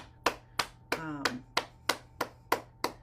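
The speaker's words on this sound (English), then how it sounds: "Clap your hands." One person claps hands in a steady, even rhythm, eight sharp close claps about a third of a second apart during a morning bouncing session, with a brief vocal sound between the early claps.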